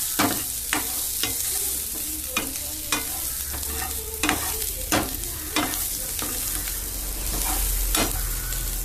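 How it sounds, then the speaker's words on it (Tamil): Onions sautéing over a low flame for a horse gram kadaiyal, with a steady soft sizzle broken by repeated scraping stirs of a spatula against the pan. "வெங்காயத்தை நல்லா வதக்கிக்கணும்"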